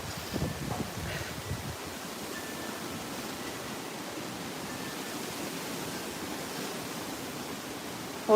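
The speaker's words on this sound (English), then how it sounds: "Oh, that's a lot of wind." Strong wind roars in the dark, a broad, steady rushing gust buffeting close by, with low rumbling thumps at the start and no voices.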